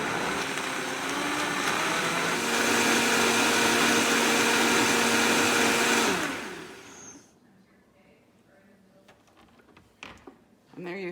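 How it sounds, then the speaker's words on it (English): A kitchen blender purees broccoli soup, its motor whining loudly and steadily with a rising pitch for about six seconds before cutting off, followed by quieter handling sounds and clinks. "Blend all this together."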